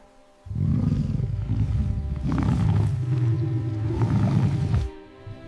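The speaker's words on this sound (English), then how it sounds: "It's a lion." A lion lets out a deep, rumbling roar that swells in two long surges over about four seconds, loud and close, then fades away with no talking.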